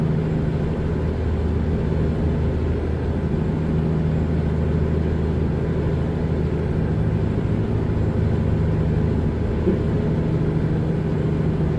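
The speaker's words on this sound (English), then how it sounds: "You can hear us accelerate, decelerate." Engine of an old-school Peterbilt truck with a 150 hp motor, hauling a 57,000 lb load on the road, drones steadily and loudly for the whole stretch with a low rumble and little change in pitch.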